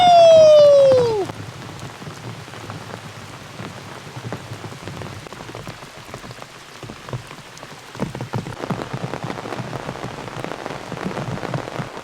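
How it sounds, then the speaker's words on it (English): Heavy rain pours steadily during a rainstorm at a riverside canoe campsite, a dense close hiss of drops drumming on surfaces, growing slightly louder toward the end, with a brief whistle-like tone at the start. "This is definitely not the biggest rainstorm I've ever been in, but it's a good one."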